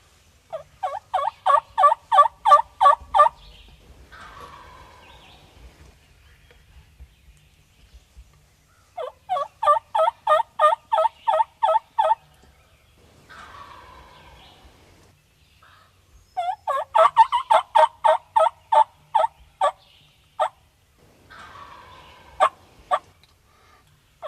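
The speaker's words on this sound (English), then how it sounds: "They're gobbling. There's a bunch of them." A bunch of wild turkeys gobbling, three separate bursts of rapid, rattling gobbles several seconds apart, clear and carrying, with softer calls and quiet gaps between the bursts.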